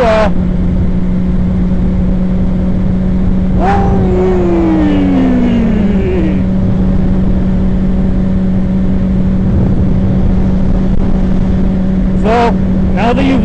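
A motorcycle engine cruising in sixth gear at about 60 mph, a loud, steady drone with heavy wind rush that holds constant throughout, with no speech.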